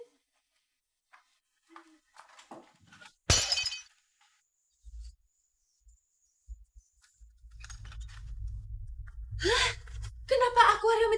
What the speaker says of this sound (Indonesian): Kenapa akuarium itu bisa pecah?